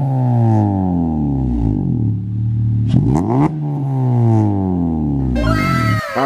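A 9th-generation Honda Civic Si with a Skunk2 downpipe revs loudly up and down. The engine climbs in several rising and falling sweeps, close by and continuous, with no talking.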